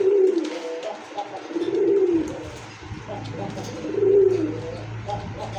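Pigeons coo in repeated low, rolling phrases, several bursts close by with a steady background hum; the birds are Rasgolla pigeons shown at a fancy pigeon sale.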